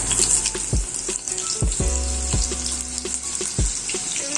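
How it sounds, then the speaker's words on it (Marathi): Green chillies dropped into hot oil in a wok, giving a steady close sizzle and fry with a few sharp spatters and clinks of metal, no voices. "तेल तापलंय, मिरची टाकते"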